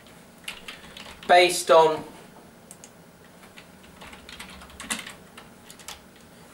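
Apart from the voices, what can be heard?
typing on a computer keyboard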